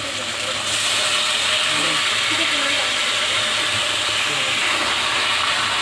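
Soaked rice and lentils go into a hot wok (kadai) for khichuri and sizzle loudly, a steady close hiss throughout after a brief quieter start.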